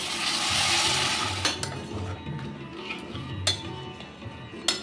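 Chicken frying in a pan as butter and hot water go in: a broad, loud sizzle fills the first second and a half, then settles into a softer bubbling hiss punctuated by a few sharp utensil clicks, with no talking.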